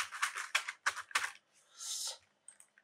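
Someone types on a computer keyboard doing Excel data entry, with quick clusters of crisp close key clicks, a short pause, then a few scattered final taps.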